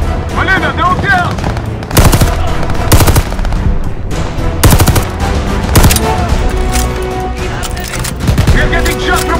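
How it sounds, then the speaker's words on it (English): Loud bursts of automatic gunfire in the Call of Duty Vanguard video game, fired from above onto players heading for a sewer, with repeated volleys of machine-gun and rifle shots over continuous battle noise and a voice speaking in between. "Getting shot from above!"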